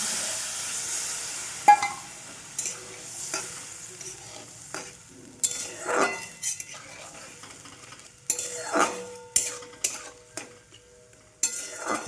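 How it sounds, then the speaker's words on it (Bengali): Water poured into a pan of cooking capsicum for an egg curry brings bursts of sizzling, broken up by spoon scrapes and stirring knocks that come and go. "এবার আমি সামান্য জল দিয়ে দেবো।"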